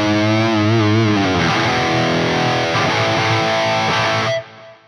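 Heavily distorted electric guitar played through a Neural DSP Soldano SLO 100 amp simulation with delay and reverb, sustained chords ringing loud and thick before cutting off sharply, leaving a short reverb tail.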